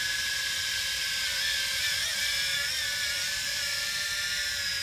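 A Tarantula X6 quadcopter drone hovers steadily in still air, its rotors giving a loud, continuous high-pitched whine that barely wavers.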